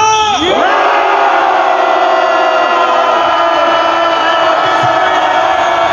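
A crowd at an outdoor political protest rally shouts and cheers in a loud, sustained roar that starts with a quick rising swell and holds steady for several seconds.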